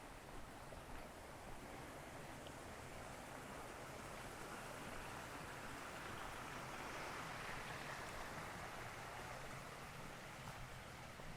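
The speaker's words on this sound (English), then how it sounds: "Serene little creek." A small creek flows with a soft, continuous broadband rush of water, faint and steady throughout with no distinct splashes.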